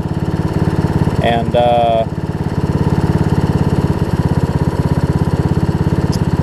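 A small Weed Eater riding lawn mower engine idles steadily with a rapid, even chug, close by, while a person speaks briefly over it near the start.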